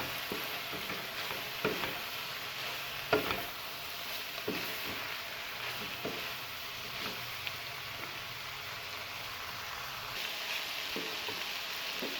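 Chicken fried rice is stirred and tossed in a hot pan as crushed red chili and black pepper are mixed in, with repeated scraping strokes over a continuous sizzle.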